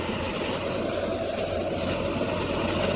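A John Deere tractor engine, 2025 model, runs with a steady, loud low rumble and mechanical drone that holds even throughout, with no talk.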